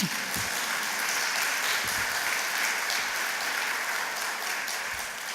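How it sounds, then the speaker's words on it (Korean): A church congregation applauding during a Sunday worship service, a steady, even wash of many hands clapping that holds at a moderate level throughout with a few thumps underneath. "여러분, 이럴 때 박수 치는 거예요."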